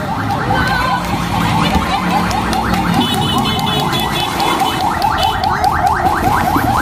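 A wailing fire truck siren sweeps up and down repeatedly over a loud, busy background of crowd noise and commotion, with voices shouting nearby.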